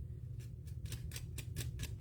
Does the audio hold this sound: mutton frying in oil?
no